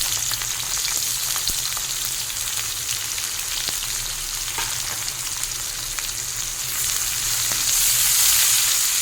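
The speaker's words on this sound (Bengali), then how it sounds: "তেলের মধ্যে দিয়ে দেবো হাফ চেরানো কাঁচা লঙ্কা ও পেঁয়াজ।" Onions and halved green chillies fry in hot mustard oil, a loud, steady close sizzle with occasional crackles and light stirring that swells louder near the end, no voices.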